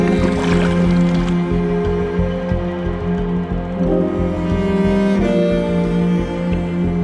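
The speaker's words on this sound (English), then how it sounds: "I hate paddling in the dark" A packraft is paddled on the Ganges at dusk, with rhythmic water swishes and splashes over a constant, close, low rumble.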